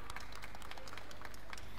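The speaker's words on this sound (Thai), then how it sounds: "เสียงปรบมืออย่าให้ขาดนะคะ" Audience applause welcoming an association official at a martial arts tournament, a faint, steady patter of clapping heard from a distance.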